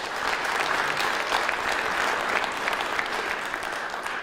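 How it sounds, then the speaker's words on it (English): Steady audience applause fills the room at a school safety event, dense clapping held at an even level throughout with no voices above it. "Let's give him a round of applause."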